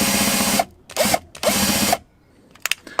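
A power drill whirs in loud, close bursts while side splitters are fitted to a Ford Fiesta ST, with two long runs, a short blip between them and faint clicks after it stops.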